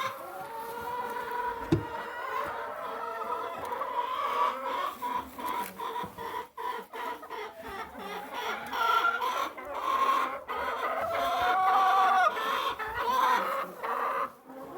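Farm hens clucking and squawking in a busy, continuous morning chorus, close by, with overlapping calls rising and falling throughout.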